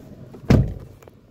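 A metal gate is pushed open with a single sharp clank and short rattle, fairly close and loud against quiet surroundings.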